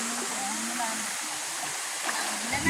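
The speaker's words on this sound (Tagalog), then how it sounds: "Napakaganda ng falls dito mga idol" A waterfall at Peñablanca, Tuguegarao gives a steady, broad rushing roar with faint splashes, close and unbroken throughout.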